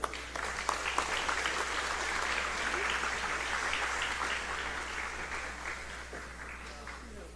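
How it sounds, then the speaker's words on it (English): A crowd applauds at a citizenship ceremony for 44 new citizens, a sustained wash of clapping from many hands that holds steady and then thins slightly toward the end. "Please join me in giving our new 44 citizens a big round of applause."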